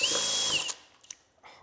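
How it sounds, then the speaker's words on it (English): A power drill bores bolt holes, whining steadily and loudly before cutting off, then a few light clicks and handling noises follow. "I'll be drilling my bolt holes 1 inch in"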